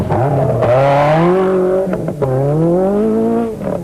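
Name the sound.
Mercedes prototype rally car taking off from checkpoint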